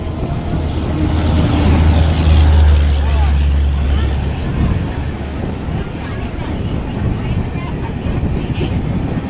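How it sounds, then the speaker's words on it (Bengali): The New Delhi Rajdhani Express rolls past close by, a loud rail rumble with a strong low hum early on that eases to a steadier rattling roar. "এটা নিউ দিল্লির রাজধানী।"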